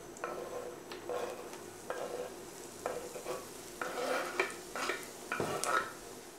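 Onion dropped into garlic already frying in a pan, giving a close, crackling sizzle broken by intermittent stirring scrapes and light utensil clinks against the pan, with no talk.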